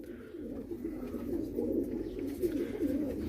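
Domestic pigeons in Multan, some of them ailing, coo in soft, low, rolling phrases that repeat back to back at close range, with no talking over them.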